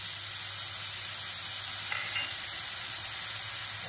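Sausages stir-fry in a pan for a tamarind dish as sugar goes in, giving a steady, even sizzle and hiss throughout with no talking.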